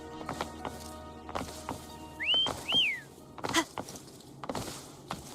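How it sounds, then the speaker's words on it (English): Two short rising-and-falling whistles in quick succession, with scattered clopping hooves and soft thuds around them, from the video game Wuthering Waves. "Why don't you call Foam over? Try whistling."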